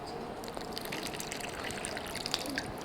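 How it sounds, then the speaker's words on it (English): Water poured through a homemade funnel cut from a Tetra Pak carton gives a soft, continuous gushing trickle with faint drips, steady and fairly quiet throughout, no speech. "See, you can pour water."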